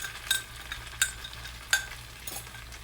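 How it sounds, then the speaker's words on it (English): A spoon stirs almond milk and arrowroot in a measuring cup, making soft, regular clinks and scrapes about every second over a quiet hum. "Just stir that together."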